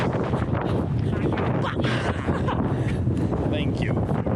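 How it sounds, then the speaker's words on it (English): Strong wind buffets the microphone on a group hike to Lulumahu Falls in Hawaii, a steady loud roar and rustle throughout, with people talking over it. "The wind's gonna blow our hut away."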